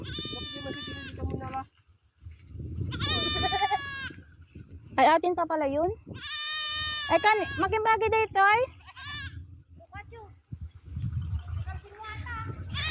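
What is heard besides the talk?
goats bleating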